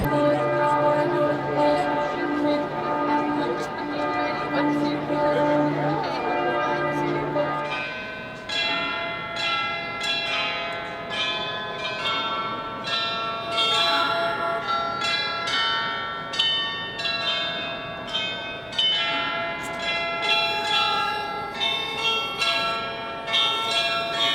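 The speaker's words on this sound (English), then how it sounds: "So this is a pretty neat little chime. Oh, gotta get up the other group. But here is the Glockenspiel." Munich's Glockenspiel clock chimes outdoors: a rich, sustained peal of bells rings continuously, then shifts into a quicker run of bright, struck tones that repeats for over twenty seconds.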